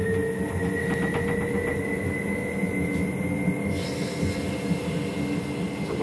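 The Bernina Express running from Tirano to St. Moritz, heard from the driver's cab, accelerates with a steady, close motor drone and rail rumble, punctuated by a few light rhythmic clicks.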